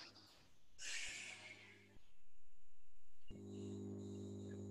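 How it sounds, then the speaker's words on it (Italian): During a Pilates exercise, a person takes a deep breath in and lets it out, close and fairly quiet, followed by a low steady hum. "Ancora un respirone profondo."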